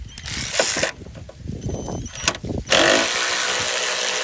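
Bursts of a whirring motor from a Hyper Tough cordless ratchet loosening a bolt, with clicking and rattling, stopping and starting, then a continuous high-pitched whine at the end.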